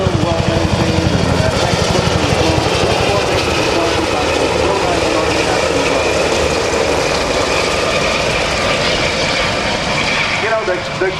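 A steady, loud engine drone with a fast rhythmic thumping from Black Hawk and Huey helicopters at a 2009 Rhode Island Air National Guard open house runs unbroken throughout, close and constant.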